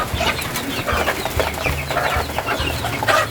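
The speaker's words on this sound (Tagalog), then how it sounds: "Tara, samahan niyo kaming magpakain ng mga manok." Several chickens cluck and squawk close by in busy, irregular bursts at feeding time, with no talking.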